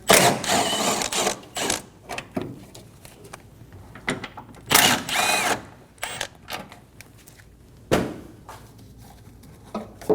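A power driver with a 10mm socket spins out the two screws holding the coolant reservoir on a 2008-2015 Scion xB 2.4L four-cylinder, in short close whirring bursts separated by pauses.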